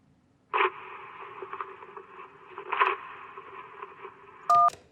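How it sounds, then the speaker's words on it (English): A sound effect from the video game Kentucky Route Zero of an electric bill being torn up, heard as a faint crackly rustle over a telephone line, set between sharp phone keypad beeps. "was someone tearing up an electric bill."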